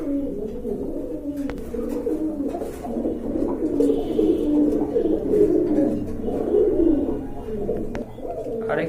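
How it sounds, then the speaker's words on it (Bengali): Several pigeons, including teddy pigeons, coo close by at a pigeon market in Bangladesh, a continuous low, throaty burbling that overlaps and swells without pause. "এই যে দেখেন কবুতর জোড়া কিন্তু মার্শাল্লাহ অনেক বড়"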